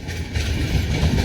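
A train on the Guntur-Vijayawada branch line rumbles past close by, a loud, continuous low roar of wheels and wagons with faint rhythmic rail clatter.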